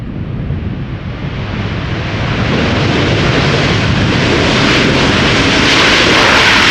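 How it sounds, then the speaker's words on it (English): A five-year-old Aeromexico Boeing 787-9 Dreamliner from Mexico City arrives at Schiphol Airport, its engines a loud, broad, steady roar that swells and grows brighter as it nears. "Aero Mexico flight 25 up next. 7879 Dreamliner, arriving from Mexico City."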